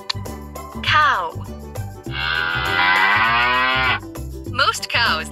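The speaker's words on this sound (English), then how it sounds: "Cow." A cow moos in a farm animal sound set for children, two long drawn-out lows with a shorter call at the end, loud and close over a soft music bed.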